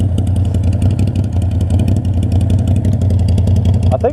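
A motorcycle engine runs steadily at idle, loud and close, with a low, even throb throughout and a brief higher rattle near the end.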